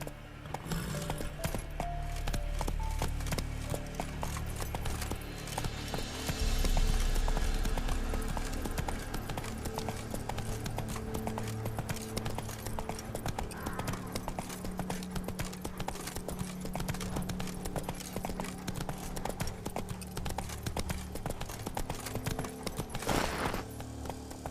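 Hooves clip-clop steadily as a horse gallops in The Witcher 3, a fast continuous rhythm of hoofbeats heard close and even throughout, with no clear talk over it.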